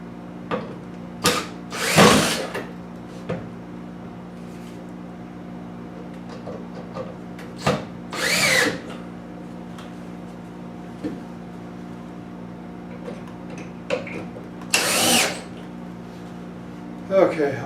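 A power drill drives screws into joists in a basement, with three short, loud bursts of spinning and a constant low background hum, while someone talks between the bursts.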